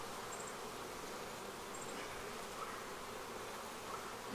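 A steady, faint buzzing drone of many honey bees at a hive, constant throughout with no pauses, like bees swarming around a hive.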